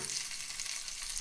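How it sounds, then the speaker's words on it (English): Beef brisket seared on all sides in a hot pan, a loud continuous sizzle and crackle of frying meat filling a brief moment, with no voices. "we're just going to fry that on all sides"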